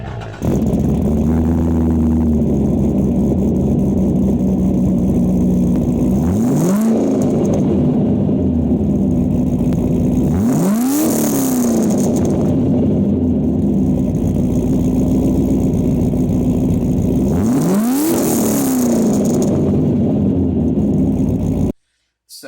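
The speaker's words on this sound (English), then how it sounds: "I kind of like the freight trainy rumble of the Magnaflows." A 2005 Corvette C6 with tube headers, high-flow cats, an X-pipe and Magnaflow exhaust idles with a deep, steady rumble, broken by three sharp throttle blips that rise and fall, close and loud.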